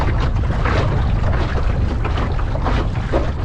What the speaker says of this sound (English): actually we've just caught a gust